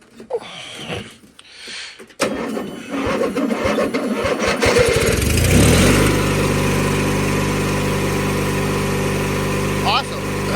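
A 1997 MTD Yard Machines riding lawnmower engine is cold started: the starter cranks briefly, then the small engine catches and settles into a loud, steady idle up close.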